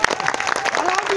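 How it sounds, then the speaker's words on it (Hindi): Crowd at a night political rally in Meghasivni clapping hard, a brief burst of loud, fast claps with voices mixed in beneath. "जोरदार ताली बजाओ"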